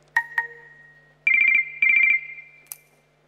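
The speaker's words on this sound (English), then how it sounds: "UI sounds are already, a common part of our everyday lives, of course, thanks to the mobile era" Mobile phone interface sounds play one after another: two short chimes, then two rapid trilling bursts like a ringtone, and a final tiny click, crisp and close against near silence.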